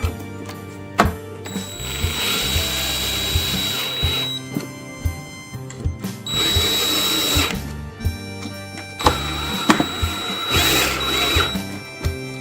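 A power drill drives screws down to mount a controller plate, with repeated whirring bursts and clicking ratchet-like bursts close by, each run stopping and restarting over several seconds.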